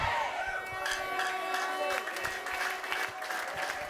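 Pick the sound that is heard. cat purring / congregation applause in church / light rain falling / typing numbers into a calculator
congregation applause in church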